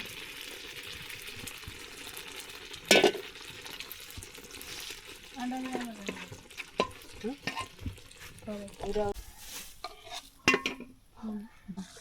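Oil pitha, rice-flour cakes, frying in hot oil outdoors beside a wetland: a steady low sizzle with occasional stirring scrapes and clinks of a utensil against the pan, moderately close.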